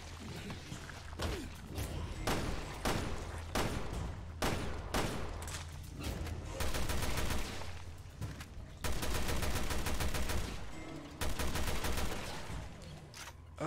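Gunfire at zombies in Resident Evil Revelations 2, loud bursts of rapid shots and separate single blasts repeating in clusters, punctuated by thuds.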